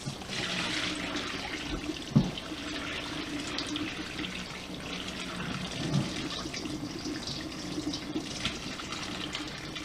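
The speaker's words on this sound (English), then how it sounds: "they're thrown in cold water for cold water rinsing" Cooked noodles getting a brief cold-water rinse under a running tap, a steady broadband gush of flowing water with a couple of sharper splashes as the stream hits, continuous and fairly close throughout.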